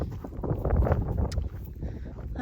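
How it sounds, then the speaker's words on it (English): Wind gusts across an open cow pasture, buffeting the microphone with a low, uneven rumble that swells and fades over a couple of seconds. "Whew, it's windy."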